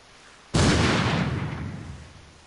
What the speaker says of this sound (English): He just had Eric shoot him.